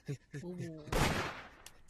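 A gunshot in a Tom and Jerry murder-mystery video game bursts out loud and sharp after a man's brief speech, then decays in a long noisy tail.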